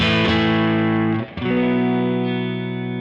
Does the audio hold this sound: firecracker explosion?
no